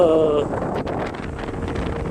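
Wind buffets the microphone on a road near Pangong Tso lake in Ladakh, a steady broadband rumble with a brief voice at the start.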